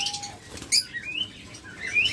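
Caged pet birds flap their wings in a quick burst near the start, with high, thin chirps and tweets scattered through the short recording at close range.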